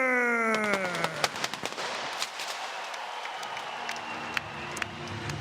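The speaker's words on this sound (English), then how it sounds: "Explosions above our head" Sharp pyrotechnic bangs and crackles burst above a roaring arena crowd at a ONE Championship mixed martial arts event, with a descending whistle at the start and scattered pops continuing throughout.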